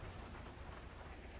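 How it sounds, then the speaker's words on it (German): Rain weather effects in Grand Theft Auto 5 produce a dense, steady hiss of rainfall on surfaces with a low rumbling undertone, continuous and fairly loud throughout. "Übrigens sehr geil, mal ein bisschen Regeneffekte und Wettereffekte zu sehen."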